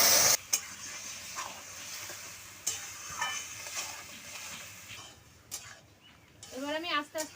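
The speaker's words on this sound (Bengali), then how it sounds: "এবার দিয়ে দিচ্ছি আমি তেঁতুলের গাছটা দিয়ে দিচ্ছি" Tamarind dropped into hot oil with panch phoron for a sweet-sour pickle, crackling and sizzling in steady frying with scattered clinks, loud at first and then settling into a continuous hiss.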